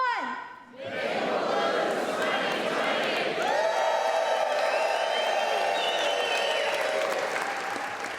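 An awards-show audience chants a short hashtag in unison and then erupts into loud sustained cheering, clapping and whoops that fill the hall for several seconds.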